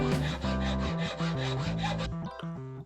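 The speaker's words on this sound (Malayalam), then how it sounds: "ട്രിഗറിൻ്റെ ഷേപ്പിൽ നമുക്ക് ആദ്യം ഒന്ന് കട്ട് ചെയ്തെടുക്കണം." Wood is cut by hand to shape a crossbow trigger, with steady back-and-forth sawing strokes at a moderate level, close up and with no talking.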